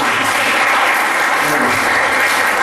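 An audience at a gender-based violence workshop gives a dense, even burst of applause, many hands clapping steadily and loudly throughout without pause.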